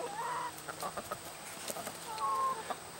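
A barred rock chicken clucks and gives short trilling calls in quick bursts, close and fairly quiet, during a scuffle with other hens over a hornworm.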